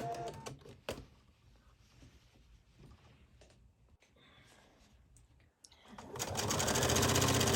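A sewing machine works the side seam of a Key West Hawaiian shirt: scattered clicks and short stops give way to a loud, continuous whirring run near the end, heard close up.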